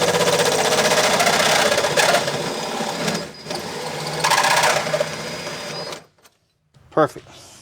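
Loud, continuous whir of a power drill boring through the metal body of a 1957 Chevrolet Bel-Air, easing off and stopping, followed by a short bit of speech.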